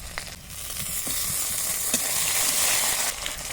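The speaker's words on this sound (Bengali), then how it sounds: "সামান্য কালো জিরে আর থেতো করা রসুন ফোড়ন দিয়ে দিলাম" Nigella seeds and crushed garlic frying in hot mustard oil in a wok, a loud, close, steady sizzle with scattered crackles and light stirring clicks throughout.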